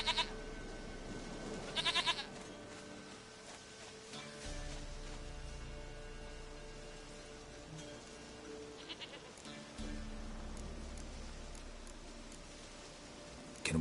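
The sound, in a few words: goat bleating in the video game The Witcher 3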